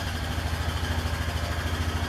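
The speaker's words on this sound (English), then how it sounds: "I'll warm the engine up so I can change it." Idling and warming up after a break-in oil change, a 2014 Honda Foreman TRX 500 ATV engine holds a steady, close, throbbing rumble without any voices.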